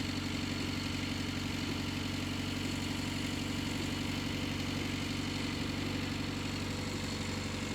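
A Morris Minor engine with a newly replaced timing chain idles steadily and evenly, a continuous close hum with no clatter and no voices.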